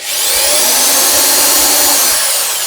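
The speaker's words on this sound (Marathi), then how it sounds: "तर ड्रिलचा साऊंड तुम्ही ऐकलाच असेल अतिशय स्मूथ" A new electric drill from a toolkit whirs steadily at high speed, a continuous loud mechanical whine with no pauses and no voices.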